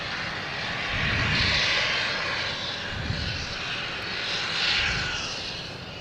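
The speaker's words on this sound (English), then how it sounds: "We got a JetBlue here in the alley making all kinds of noise, an A320." A JetBlue Airbus A320 idling in the alley at Boston Logan Airport, its jet engines giving a continuous broad roar that swells and eases at moderate distance.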